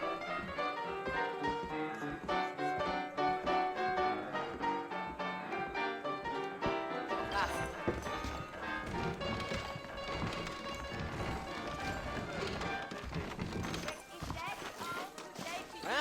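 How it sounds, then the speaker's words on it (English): Horse hooves clip-clop in Red Dead Redemption, played on Xbox One X, as saddled horses set off. The steady hoofbeats sit under loud music and game dialogue that run throughout. "I got the horses saddled up and ready out front."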